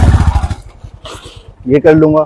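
A motorcycle engine putters in a quick throttle burst while an instructor explains picking up speed on a bike; someone speaks over the start and end of the engine pulses.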